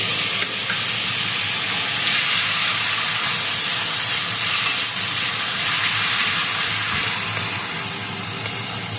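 A large grated tomato goes into a hot pan for a Bengali vegetarian dhokar dalna, giving a loud, continuous close sizzle and steamy hiss that eases slightly toward the end, with no talking.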